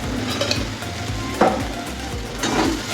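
Bitter gourd frying with mustard and poppy seed paste and coconut in a pan, a steady close sizzle broken by a few soft scrapes and knocks of a spatula, no voices.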